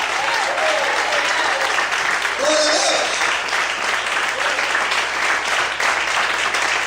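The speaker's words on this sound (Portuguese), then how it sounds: "Você pode aplaudir e exaltar ao Senhor bem forte" Loud, dense applause from a church congregation during a Portuguese-language sermon, sustained throughout with a voice calling out over the clapping.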